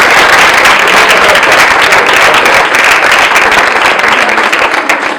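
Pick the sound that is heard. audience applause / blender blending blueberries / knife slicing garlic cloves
audience applause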